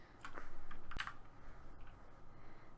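Short bursts of typing on a computer keyboard, a quick cluster of light clicks near and soft, fading into quiet room noise with no talk.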